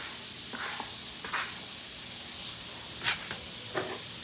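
Half a yellow onion sizzles in melted butter in a pan, giving a steady, bright hiss with a few soft kitchen clinks and no talking.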